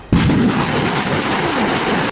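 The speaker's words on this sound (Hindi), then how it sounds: "अजरबैजान की तरफ से ताबड़तोड़ रॉकेट भी दागे गए" Azerbaijani rockets launching in rapid succession during combat, heard as one loud, sustained roaring blast that opens sharply and fills about two seconds with dense rumble and crackle, close and overpowering.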